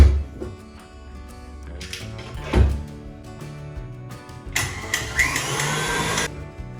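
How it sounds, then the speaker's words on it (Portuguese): A stand mixer whirs while beating cake batter for about 15 seconds, a loud, steady motor drone with clunks of the bowl and a brighter whine rising toward the end. "agora a gente volta a massa para a batedeira por 15 segundos"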